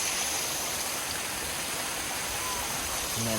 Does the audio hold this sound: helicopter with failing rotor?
no